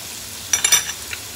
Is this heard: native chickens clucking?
no